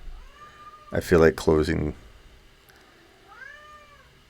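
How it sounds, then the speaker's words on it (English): A cat meows several times, two loud drawn-out calls close to the microphone followed by a fainter meow, with someone briefly speaking over the room. "That cat."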